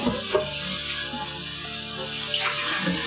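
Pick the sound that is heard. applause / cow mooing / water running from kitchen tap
water running from kitchen tap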